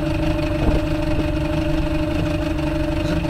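A fishing boat's engine idles roughly at low speed, a loud steady low rumble with an uneven throb that continues unbroken.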